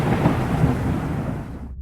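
A thunder and lightning strike effect in a horror story: a loud, deep rumbling crash that rolls on and then cuts off abruptly into silence, with no voices.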